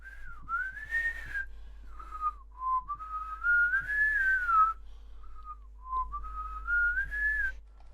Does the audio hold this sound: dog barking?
no